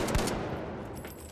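A heavy gun firing in the video game THE FINALS, a short sharp burst of shots up front that fades into a decaying rumble.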